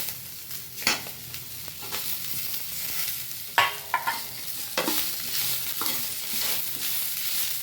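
Onions sautéing in a pan for a drumstick flower stir-fry (poriyal): a steady, soft sizzle with several sharp scrapes and stirring knocks of a spoon against the pan, no voices.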